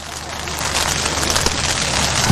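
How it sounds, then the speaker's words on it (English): Rain falls during a baseball game, a dense, steady hiss of drops on surfaces filling the whole clip at fairly high level, with no talk. "A little bit of rain coming through again."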